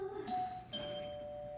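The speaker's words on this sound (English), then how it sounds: "Oh, there's the doorbell." A two-tone doorbell chime rings once during a school stage play, a higher note followed by a lower one, fairly quiet and clear.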